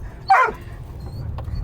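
A single dog bark heard from inside a car at a gas station, a short sharp yelp standing above steady engine and road rumble.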